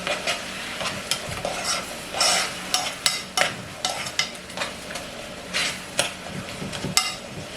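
Meat frying with spices and garlic in a pan, a close sizzle broken by repeated scraping stirs and clacks of a utensil at an uneven rhythm.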